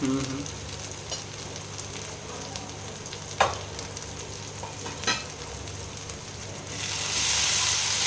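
Ground spices, including coriander and Kashmiri chilli powder, sizzle steadily in hot oil for a mutton and potato curry, a close continuous frying hiss broken by two sharp utensil scrapes and a louder burst of sizzling at the end.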